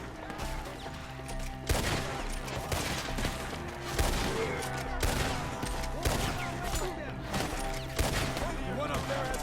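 Gunfire in Red Dead Redemption 2 during a shootout, with repeated loud shots at irregular intervals over a continuous din and voices calling out between bursts.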